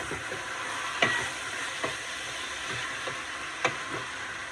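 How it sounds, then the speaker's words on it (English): Chunks of meat stirred with frying onions in a pot for a green bean stew, a steady low sizzle broken by a few scraping spoon strokes and soft knocks at irregular intervals. "Give that a nice mix with your onions."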